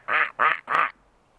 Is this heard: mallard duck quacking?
yes